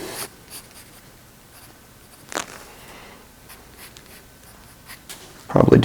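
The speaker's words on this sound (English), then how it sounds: "now I'm just going to draw a bit" Soft scratchy strokes of a pencil on paper, intermittent and close, with a louder rustle at the very end.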